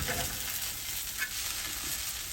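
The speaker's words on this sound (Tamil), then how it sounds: "இப்போ நம்ம தோசையை திருப்பி போட்டுக்கலாம்." A spicy dosa sizzles in a pan just after flipping, a steady frying hiss with a few soft scraping touches, close and fairly quiet with no talking.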